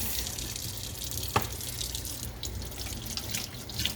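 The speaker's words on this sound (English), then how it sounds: "So I'm going to rinse the meat." A kitchen sink tap runs steadily while raw chicken is rinsed for penne rosa with Parmesan-crusted chicken, a continuous close splashing hiss with one brief clatter, no talking.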